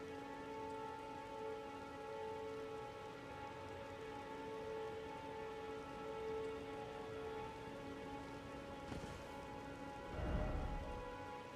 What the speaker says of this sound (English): Oh, it's raining. Look at this.